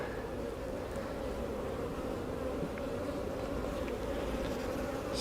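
A dense swarm of honey bees buzzes around an open hive during a spring brood box inspection, a steady close drone throughout with no talking.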